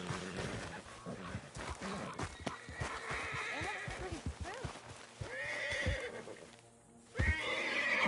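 A horse neighs and whinnies loudly in Red Dead Redemption 2 with clip-clopping hooves and some background game sounds, ending in a sharp snort.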